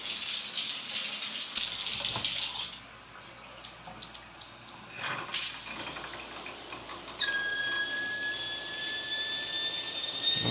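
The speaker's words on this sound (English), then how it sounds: "Let's try the shower head." Water sprays from a shower head in a Las Vegas hotel bathroom. The spray makes a continuous hiss, broken by brief clatters and knocks partway through, and no voices are heard.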